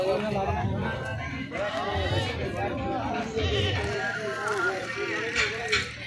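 Goats bleating at a livestock market near Barnala on Bajakhana Road, with repeated wavering calls from several animals mixed into a constant crowd murmur and nearby talk.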